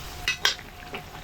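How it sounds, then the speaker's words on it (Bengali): Sandwich pieces are flipped in a frying pan, giving a few quick, quiet scrapes and clinks of a utensil over a faint sizzle. "এবার আমি স্যান্ডউইচের পিসগুলোকে উল্টে দিচ্ছি।"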